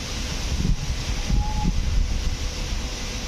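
Strong wind from Cyclone Remal over the Shitalakshya river, a low rumbling buffet with irregular gusts pushing against the microphone over a steady background rush.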